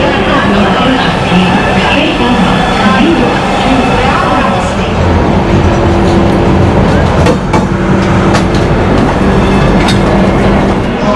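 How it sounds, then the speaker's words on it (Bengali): Rajdhani Express (New Delhi–Howrah, 12306) pulling out of New Delhi station: a steady, loud rolling rumble of wheels and carriages runs throughout, with faint clattering and people's voices mixed in underneath. "ট্রেন ছাড়লো নিউ দিল্লি স্টেশনে।"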